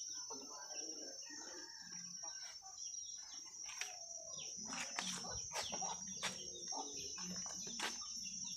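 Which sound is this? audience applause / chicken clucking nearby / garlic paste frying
chicken clucking nearby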